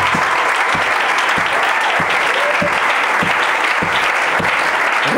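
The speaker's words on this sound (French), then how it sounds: "On acclame Jésus-Christ" A church congregation bursting into loud, sustained applause, dense and continuous clapping from a large crowd filling the room, with a few stronger rhythmic claps pulsing through the wash.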